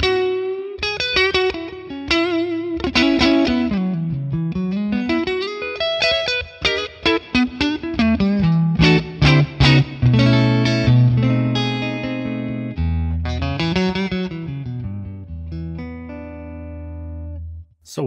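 Electric guitar on the neck pickup through a Friedman Plex amp model with reverb added, playing a flowing run of notes and chords that ring into a long, decaying reverb tail, loud and close with no talking.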